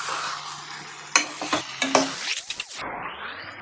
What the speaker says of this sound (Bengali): বন্ধুরা, আমি ভালো করে কষাতে থাকি